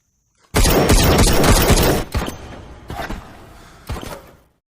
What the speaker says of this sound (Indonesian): Dalam pertempuran itu, Badauna tiba-tiba menembak kedua temannya hingga tersisalah Malik dan Badauna.